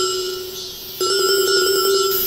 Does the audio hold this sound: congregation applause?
no